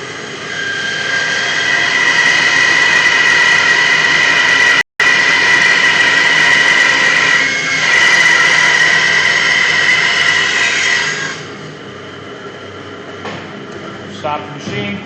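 A bandsaw cutting a wood bowl blank gives a loud, steady machine whine and blade hum, with a short break partway, then winds down to a quieter spinning sound near the end.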